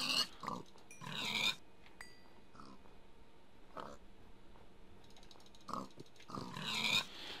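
Pigs in the Minecraft video game grunt and oink in short bursts, some louder and closer, with quiet gaps in between.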